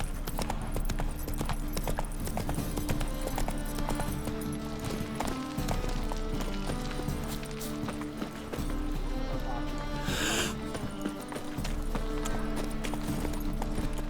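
Horse galloping in The Witcher 3 video game, a dense rapid clip-clop of hooves running steadily under game music and ambience, with a voice speaking briefly.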